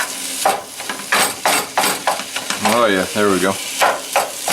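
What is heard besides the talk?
ground beef and onions frying and stirred in a pan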